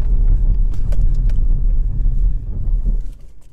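A 2017 Skoda Octavia III 2.0 TDI 150 hp estate accelerating on the road, a loud low diesel drone heard from inside that rises briefly, then eases and fades toward the end.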